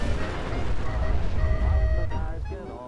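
Deep rumbling booms and a dense low roar from explosions in the Fallout 4 wasteland, sustained and loud across the whole stretch with some tonal hum layered on top.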